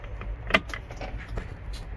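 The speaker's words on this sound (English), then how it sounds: "we're gonna turn on the ignition" Ignition of a 2018-or-later International LT truck being switched on: a quick metallic key jangle and click up close, followed by faint rattles and a low background hum.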